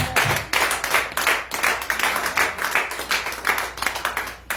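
A congregation at a church prayer service claps and applauds for Jesus Christ, steady rhythmic clapping from many hands throughout, loud and close, with no speech over it.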